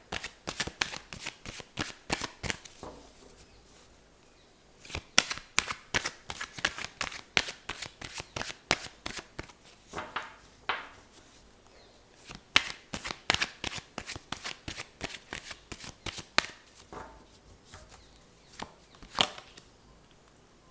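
A deck of tarot cards is shuffled by hand in repeated bursts of crisp riffling flutters, close and clear, separated by short pauses, with no talking.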